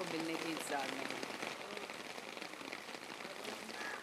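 Steady rain falling outside studio number 10 at Film City in Mumbai, a fine, even patter on hard surfaces with a few brief tonal sounds near the start, moderately faint throughout.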